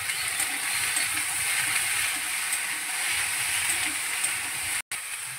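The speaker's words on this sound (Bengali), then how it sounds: "এবার আমি আলু পেঁয়াজের সঙ্গে ভেন্ডি মিশিয়ে নিচ্ছি।" Okra being stirred into frying potatoes and onions in a pan, with green chilies added: a steady, dense sizzle running continuously with soft scraping of the stirring, no talking, ending in a brief gap.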